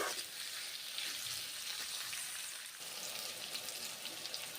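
Sliced pointed gourd (potol) fries in hot mustard oil in a pan, giving a continuous soft, hissing sizzle with a faint crackle, steady throughout.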